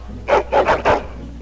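A dog in the video game Dragon Age: Origins barks four times in quick succession, close and fairly loud, with short gaps between the barks and no talking.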